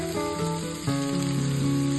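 Potatoes, cauliflower and green peas frying in hot oil with panch phoron for a vegetarian curry: a steady, loud close-up sizzle and crackle with no pauses, no talk over it.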